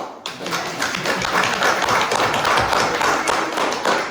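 Board members at a borough land use board meeting clap together to approve a resolution of thanks, a dense, steady patter of hand claps from a small group in a room, lasting several seconds.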